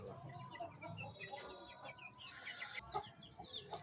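Chickens clucking close by, with repeated short calls and some higher chirps mixed in, busy and continuous throughout.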